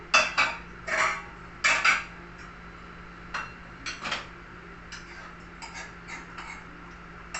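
Metal utensils clatter and clink against a pot and serving dish as an eggplant, ginger and green chilli curry is dished out. Several sharp knocks come first, then lighter scattered taps, with no talking.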